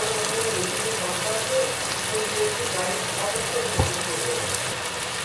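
Chicken cooks on a high flame in a pan, giving off a steady watery sizzle and hiss as released liquid bubbles, with a brief utensil scrape partway through while it is stirred.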